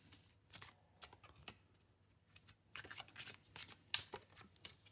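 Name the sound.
shuffling a deck of symbolon tarot cards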